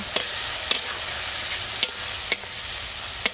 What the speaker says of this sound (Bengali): সবগুলো মশলা ভালো করে কষাতে হবে